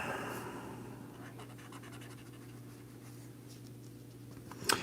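Felt-tip coloring markers scratching over paper at close range, quiet strokes above a low steady hum, with a brief louder tap near the end.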